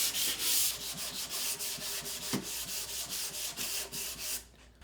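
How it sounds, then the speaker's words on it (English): Hand sanding wood with 220 grit sandpaper, a steady back-and-forth rhythm of close, bright rasping strokes, about a dozen passes with no voices. "Now we're gonna just hand sand with 220 to finish everything off"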